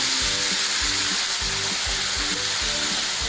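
Masala paste fries in oil for chicken shawaya, a loud, steady sizzle with repeated low scraping stirs across the pan. No talk is heard.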